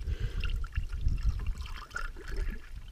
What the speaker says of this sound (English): We're putting water in this thing because that was like no coolant.